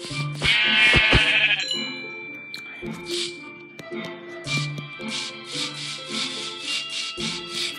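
Sheep bleating in Minecraft Pocket Edition, a loud cluster of bleats at the start and then more blocky, repeated bleats under game sounds and other noises, with a voice briefly heard.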